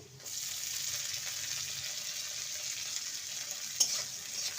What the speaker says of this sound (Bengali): ক্যাপসিকামটাকে ভেজে নেব